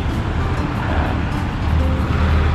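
Vehicles pass on a road beside a barracks, making a continuous close wash of traffic roar that swells slightly toward the end. No one speaks.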